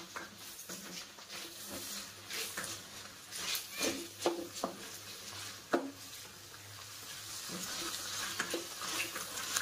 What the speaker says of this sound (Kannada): ಈಗ ನೋಡಿ ಎಣ್ಣೆ ಕಾದಿದಲ್ಲ, ಇದನ್ನು ಹಾಕ್ತೀನಿ. ನೋಡಿ ಈಗ ಹಾಕಿ ಚೆನ್ನಾಗಿ ಫ್ರೈ ಮಾಡ್ತೀನಿ.